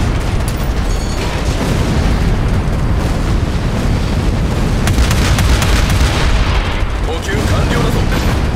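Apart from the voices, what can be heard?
cannon shell hitting, explosion, from the video game Figureheads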